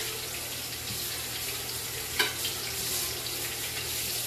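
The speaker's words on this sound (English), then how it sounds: "I need to rinse this colander because I'm going to be using it again for the potatoes" Kitchen tap water running steadily into a sink while a colander is rinsed, a continuous hissing splash at moderate distance with a brief clatter partway through and no talking.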